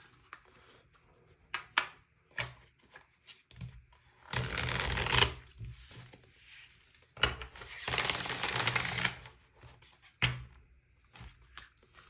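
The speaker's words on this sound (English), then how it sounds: "And then I want to get you some tarot cards as well." Tarot cards shuffled by hand in two long, loud riffling bursts, with lighter tapping and card-handling noises between them and no talking.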